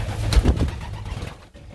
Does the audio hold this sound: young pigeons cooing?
yes